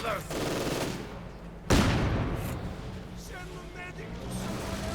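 Gunfire in the Company of Heroes 2 strategy game, bursts of machine-gun and rifle shots with a sharp loud crack near the middle, battle noise running under a commentator's voice.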